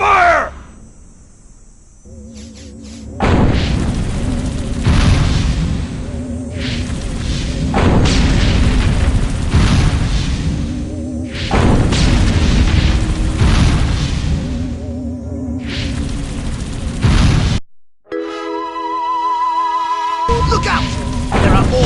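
Heavy booming explosions and sustained gunfire in the Destroy All Humans video game, loud and dense, with a brief drop to near silence before a tonal game sound returns.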